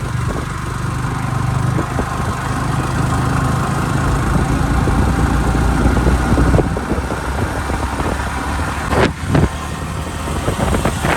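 A vehicle engine starting and running at a steady, loud idle close by, rumbling continuously with a couple of brief bumps near the end, outdoors on a ride to Kuruva Island in Wayanad.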